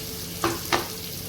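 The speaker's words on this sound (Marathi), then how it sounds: "आता खरपूस असा तळून घ्यायचं" Slices of elephant foot yam frying in oil make a steady, close sizzle, broken by two short sharp spatula clinks or scrapes about a third of a second apart. There is no talking.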